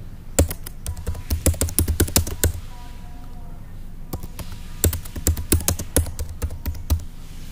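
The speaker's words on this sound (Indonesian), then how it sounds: "Kita ketikkan di sini." Typing on a computer keyboard, with bursts of quick, close clicking keystrokes, a pause in the middle, then another run of rapid taps.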